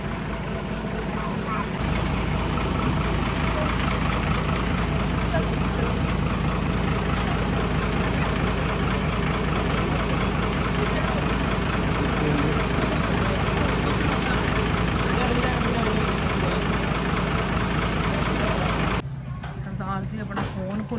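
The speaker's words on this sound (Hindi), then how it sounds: "हाय बस आ गई" A bus engine idles close by, a loud continuous low rumble that holds steady before dropping off near the end, with people talking over it in Hindi and Punjabi.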